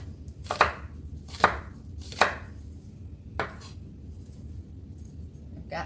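Four sharp knife chops through green onion on a cutting board, spaced unevenly and close up, with quiet room tone between strikes and no voices.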